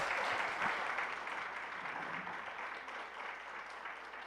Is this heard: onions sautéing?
no